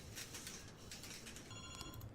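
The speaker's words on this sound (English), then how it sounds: "The phone's ringing." A telephone rings in the police-management video game This is the Police, a faint repeating electronic ring pulsing over a steady background hum of game ambience and music.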